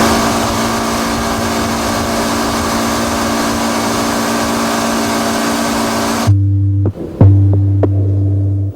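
A steady low boat engine drone throbs continuously, then drops to a quieter idling hum with a few knocks near the end as the engines slow.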